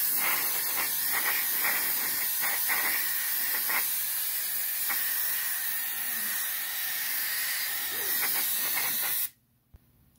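An airbrush sprays Mission Models Flat Clear coat onto a scale model of an O'Neill cylinder space colony, a close, steady hiss with small sputters that runs for about nine seconds and then cuts off.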